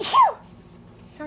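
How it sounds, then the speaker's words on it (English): A single short, sharp sneeze bursts out close by, followed by quiet. "Oh, I feel a sneeze, maybe."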